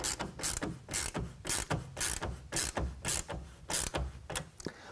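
A 9/16 wrench ratchets a tonneau cover clamp tight on a 2020 RAM 2500 truck bed rail, giving a close, steady series of rapid clicking bursts in quick rhythm with no talking.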